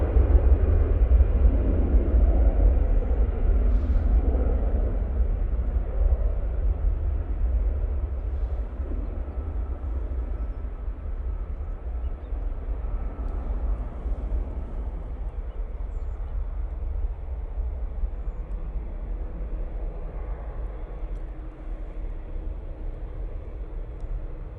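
An easyJet airliner on its takeoff roll at Manchester Airport gives a deep, loud jet rumble that is strongest at the start and slowly eases off as it recedes over nearly half a minute.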